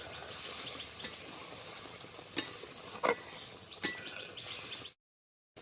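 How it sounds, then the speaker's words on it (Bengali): Prawn malai curry with garam masala and ghee being stirred in a pan: a steady soft sizzle with a few distinct metallic clinks of the spoon, then abrupt silence at the end. "সানরাইজের গরম মশলা আর একটু ঘি ভালোভাবে নাড়াচাড়া করে নিই"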